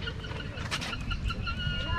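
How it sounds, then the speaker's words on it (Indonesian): Bird at a zoo in Bali squawking in short harsh bursts, fairly near, with background chatter and a voice around it. "Burungnya ngomel loh."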